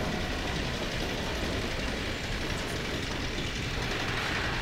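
A train rolls past in the Half-Life 2 video game, a steady dense rumble of rail cars and wheel clatter that holds at an even loudness throughout, with no voices over it.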